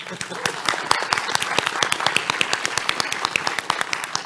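A live convention panel audience at PAX West claps steadily for a Game Boy Advance game, sharp, fairly regular hand claps that sound close amid a softer background patter.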